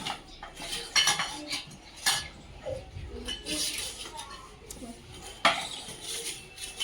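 Metal plates clink and clatter as they are handed out during a school classroom activity. Scattered sharp clanks come from close by while people talk.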